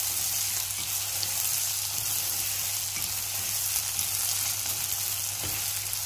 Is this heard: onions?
yes